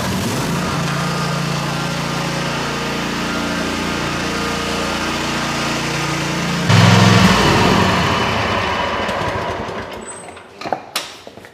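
An Exmark Staris stand-on mower engine idles steadily and close, then revs up briefly with a rougher surge before shutting down and sputtering to a stop, followed by a few clicks.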